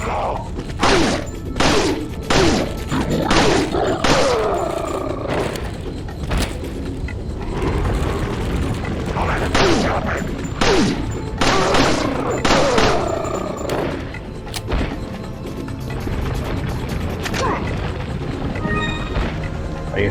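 Gunfire in Resident Evil 4, a rapid series of loud, sharp shots in irregular bursts over a busy background, with a voice occasionally speaking.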